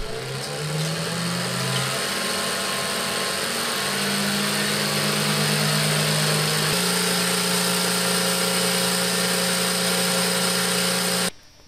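A vintage 16mm film projector runs steadily and loud up close, its motor hum and rapid mechanical clatter of the film advancing holding constant until it cuts off abruptly at the end.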